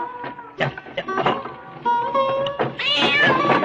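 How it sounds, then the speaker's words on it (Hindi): A cat meows several times in close succession, loud and near, with harmonic cries rising into a longer wailing caterwaul at the end, in an old Hindi film scene on a road. "देख तो बिल्ली रास्ता काट गई।"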